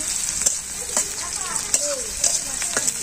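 Singi fish curry bhuna sizzles steadily in a pan with black cumin, a constant frying hiss broken by a few sharp stirring clicks, close and moderately loud with no talk.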